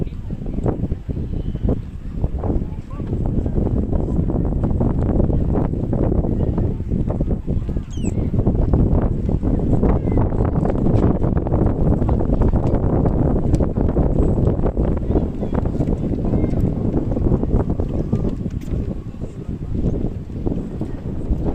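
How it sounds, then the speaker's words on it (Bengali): Wind gusting beside the water at Oslo's Aker Brygge waterfront in summer, a loud, continuous rushing buffet across the microphone that barely lets up for the whole stretch. "বাতাসে একটা কি সুন্দর শব্দ।"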